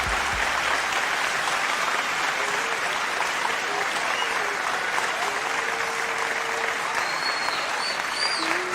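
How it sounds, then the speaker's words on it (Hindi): Audience at an Urdu poetry recital breaking into loud, sustained applause, dense clapping that carries on without pause from start to end. "एक बार जोरदार तालियां बजा के"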